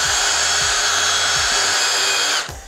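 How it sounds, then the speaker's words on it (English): An impact driver spins a foam smoothing spinner fitted on a quarter-inch bit, a loud steady high whine with rhythmic low thumps that cuts off abruptly near the end. "we just take the impact driver with one of our foam smoothing spinners"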